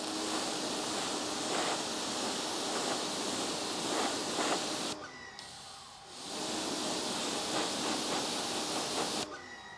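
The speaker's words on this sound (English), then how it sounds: "I'm gonna grab the tip of my pressure washer wand" A pressure washer wand rinses brake dust off a wheel-cleaning brush. Its close, steady, loud hissing spray pauses briefly about halfway, then resumes and cuts out again at the end.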